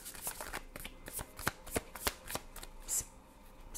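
Tarot cards are shuffled by hand in a quick series of close, crisp riffling bursts with short gaps between them, no talk over them.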